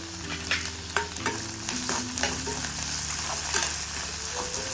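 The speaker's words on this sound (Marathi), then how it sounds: "आता आपण टॅमॅटो घालूया" Tomatoes fry with curry leaves in a pan under a steady sizzle, with repeated spoon scrapes and stirs close by and a low hum in the background.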